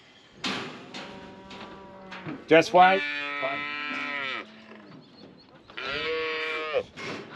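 Cattle at an outback roundup let out drawn-out moos, two long calls close by, while people talk quietly in between.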